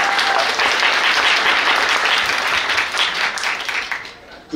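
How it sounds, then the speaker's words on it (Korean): Wedding guests break into sustained, loud applause right after the couple is pronounced married, a dense wash of many hands clapping that fades slightly toward the end. "큰 박수 다시 한번 부탁드리겠습니다."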